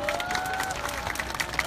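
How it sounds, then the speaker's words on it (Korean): An outdoor crowd at a protest rally in summer heat claps to welcome a speaker, with scattered applause and crowd noise under a voice. "뜨거운 박수로 맞이해 주십시오"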